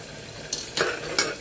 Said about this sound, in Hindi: अब हम इसको भून लेते हैं, बीच बीच में चलाते जाएंगे